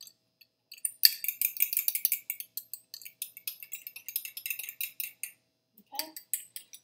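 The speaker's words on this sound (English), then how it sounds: "I'm going to take a fork and just mix it together" A fork whisking an egg in a small bowl, rapid irregular clicking and tapping against the bowl that runs for several seconds, pauses briefly, then resumes.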